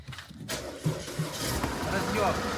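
A car engine cranks and fires on a booster pack, a short starter churn giving way to a rough idle, with people talking over it.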